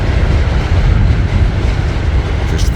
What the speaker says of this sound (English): that's where you can hear how fucking loud that subway is when it rolls by here